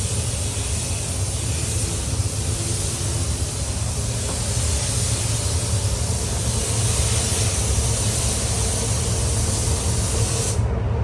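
Steady, loud spray hiss of pink liquid wrap being applied to a Ford Focus ST, continuous and close for the whole stretch, cutting off abruptly at the very end.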